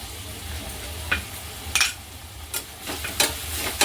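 Tomato with a pinch of asafoetida sautés in a pan for a mixed-sprout usal, a soft steady sizzle broken by several sharp scrapes and taps of a spatula against the pan.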